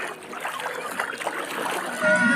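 Water splashes and trickles steadily as people wade across a cool river near Amtereng in West Karbi Anglong, a close, continuous wet churning with no talk over it.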